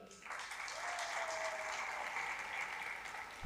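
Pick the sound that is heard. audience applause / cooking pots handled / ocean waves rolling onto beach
audience applause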